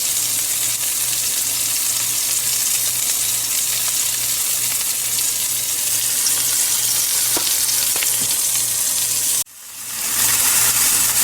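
Rosemary lamb steaks seasoned with Brazilian barbecue spice fry in a pan with a loud, steady, close sizzle that briefly drops out near the end before surging back.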